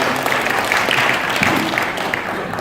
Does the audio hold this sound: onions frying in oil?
no